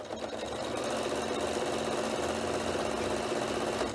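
Sewing machine stitching a mitered corner on a notebook cover, a continuous close, even-paced hum of needle strokes lasting throughout without pause.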